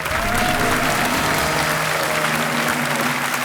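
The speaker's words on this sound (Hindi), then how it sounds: "पहले से ही ताली बज जाती है।" A dense burst of studio audience applause on a TV quiz show, steady and loud throughout, with a faint tonal sound fading under the clapping.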